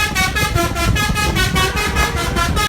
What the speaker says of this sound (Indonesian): Ini ternyata mobil bus telolet.